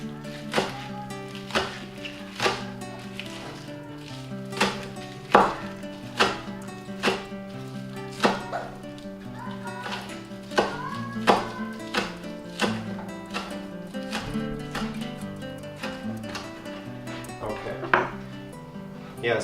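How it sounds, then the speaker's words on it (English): A knife chops green onions against a cutting board in steady, rhythmic close strikes, with a few irregular louder knocks and faint background kitchen noise. "But I'm going to cut them all up just in case."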